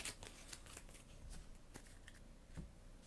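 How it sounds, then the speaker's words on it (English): Playing cards for the Leviathan Wilds board game are shuffled at a table, a quick series of soft riffling flutters and taps, quiet and close, with no talk. "I'll shuffle them back in."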